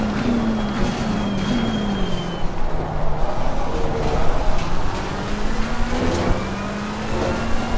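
A McLaren race car screams around a racing circuit in the video game Assetto Corsa Competizione, its engine droning steadily with rising and falling pitch through gear changes, loud and continuous.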